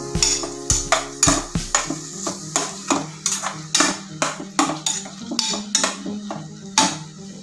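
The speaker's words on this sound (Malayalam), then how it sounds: "അരപ്പം ചൂടാകുന്നവരെ ഇളക്കി കൊടുക്കണം." A spoon stirs beetroot pachadi paste in a heating pan for Kerala Onam sadya, with rhythmic metal clinks and scrapes against the pan every half second or so over a low sizzle, close and steady.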